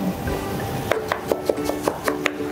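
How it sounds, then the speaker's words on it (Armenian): A knife finely chopping parsley on a cutting board for Georgian chakhokhbili, about ten crisp, evenly spaced taps close up in quick steady rhythm. "Մանը կտրատում ենք։"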